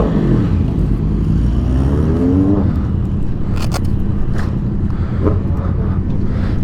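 A Suzuki Gixxer 600 motorcycle with an aftermarket exhaust roars loudly close by, with a steady, rough engine note, a rising rev and heavy wind noise.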